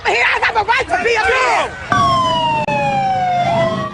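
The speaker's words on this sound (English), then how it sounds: "Motorcycle units sped in with sirens blasting." A police motorcycle siren wails loud and close, rising and falling before shifting to a long, steady descending tone, over crowd noise and voices.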